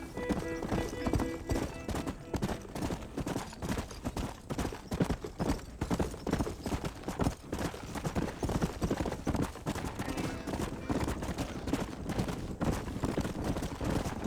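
Many horses' hooves clip-clop in a dense, continuous rhythm, with an occasional whinny mixed in, in Red Dead Redemption.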